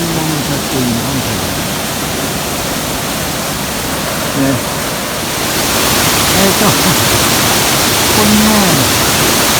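The Nyumon waterfall at Jakuchi gorge sends a steady broadband rush of falling water that grows louder in the second half, with someone speaking briefly over it.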